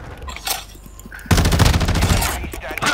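Gunfire in the video game Call of Duty: Warzone 2.0, with a few scattered shots followed by a sudden, loud, sustained burst of rapid automatic fire, close and continuous to the end.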